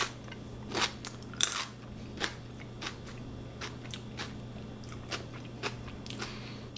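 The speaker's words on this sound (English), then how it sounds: "Super crunchy, as I'm sure you can hear." Teeth biting into a crunchy pickled yellow banana pepper, giving sharp crisp crunches followed by a steady run of wet, quieter chewing crackles, close to the mic with no talking.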